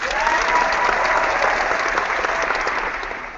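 Studio crowd applause on a gaming talk show, a dense, sustained burst of clapping at close range that holds steady and fades slightly at the end.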